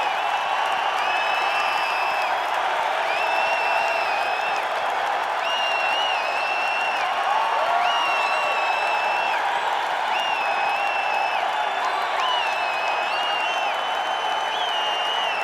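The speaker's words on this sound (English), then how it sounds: "Dave Grohl cheering." A large crowd claps and cheers steadily in a sustained wash of applause, with whistles and whoops rising above it, for Dave Grohl at a live event.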